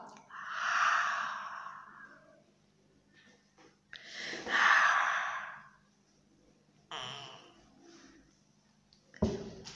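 A person imitates a yawn with the mouth, producing three long breathy, drawn-out exhalations separated by short pauses, close and fairly quiet.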